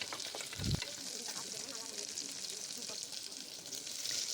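Shallots, garlic and curry leaves sauté in a pan for Chettinad mutton kulambu, giving a soft, steady sizzle with one brief low thump near the start; faint and fairly quiet overall.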